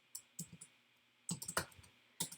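Several quick bursts of keys tapped on a computer keyboard while typing a group description, clustered in short close clicks with pauses between them and no voices.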